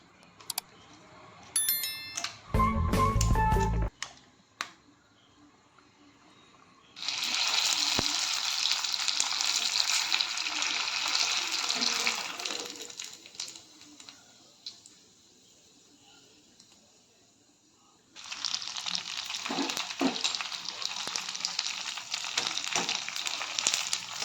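Puris frying in hot oil on a gas stove give two long bursts of bright, crackling sizzle, separated by a quieter stretch. A short clatter comes just before the first burst, and no one speaks.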